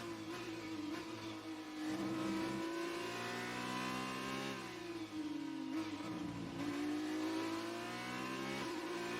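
Formula 2 car engine in the F1 2019 racing game at full throttle: a loud, continuous high-revving drone whose pitch climbs and dips through gear changes, with no voices over it.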